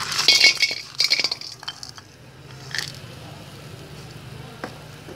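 Borax crackles and faintly sizzles in an iron wok set over a wood-fire stove, with light clinks and scraping of a utensil near the start and a low steady background hum, fairly quiet and close.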